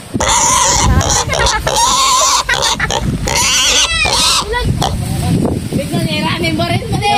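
A piglet oinks and squeals loudly and close, mixed with steady talking voices that run throughout.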